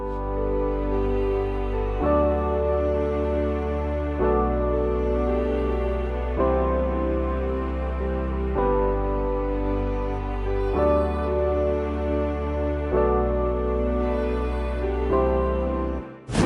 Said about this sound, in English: It's just a simple beat that needs some gain staging on it.